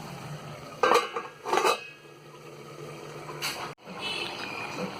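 A lid clanks down onto a cooking pot of capsicum masala for chappathi rolls, with a few sharp metallic knocks close by over a low kitchen background.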